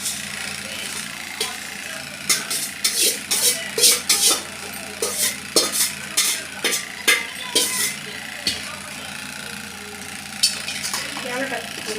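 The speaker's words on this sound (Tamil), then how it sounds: "பூந்தி ரெடி ஆயிடுச்சு கொட்டி கிண்ட வேண்டியதான்" Fried boondi for laddu being stirred in a pot, with irregular scraping clatters and knocks of the spoon against metal over a low steady background hum.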